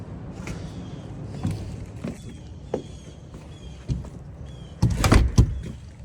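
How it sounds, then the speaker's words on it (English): Interior door that won't latch, rubbing and scraping on the floor as it swings, with several soft thuds and a louder knocking bump near the end; no talking. "This door doesn't latch and it rubs on the floor pretty significantly."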